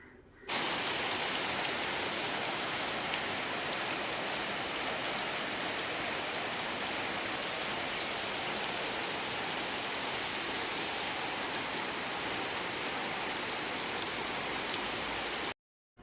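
Steady rain falls without a break, an even, dense hiss that holds at the same level before stopping abruptly at the end.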